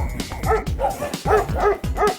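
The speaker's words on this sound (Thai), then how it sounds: "วันนี้เราเอาหมาตัวนี้ที่มันเห่าเราอยู่นะ" A dog gives a run of short, close barks and yips, about five in quick succession with brief gaps between them, loud and clear, with no talking.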